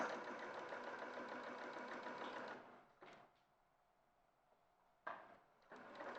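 A sewing machine stitches fabric in a steady, close mechanical whir for a few seconds, then stops. A couple of short clunks follow before it briefly starts running again.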